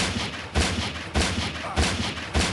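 Parabellum pistol fire in the mobile survival game Westland Survival during a boss fight, heard as four heavy, evenly spaced booming shots about half a second apart, loud and close with noisy rumble between them.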